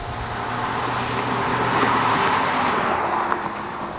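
A 2016 Cadillac CTS-V runs hard under acceleration, its engine a loud, steady, rising roar that fills the whole stretch with a constant mechanical drone and no voices.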